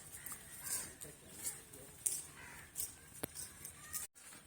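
Chickens cluck in a rural farmyard among cattle and pigeons, with repeated short bird calls at moderate distance over a background of outdoor noise and faint voices.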